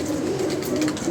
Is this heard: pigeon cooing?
yes